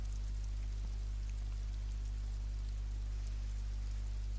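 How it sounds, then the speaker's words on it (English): Steady rain falls in the Disco Elysium video game, a continuous even wash of hiss with no talk. "Oh, it's still raining. In fact, it's raining heavier now."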